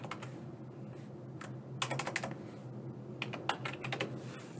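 Someone types a phone number on a computer keyboard, with quiet irregular clusters of key clicks in short bursts over a low room hum, close and soft with no talking.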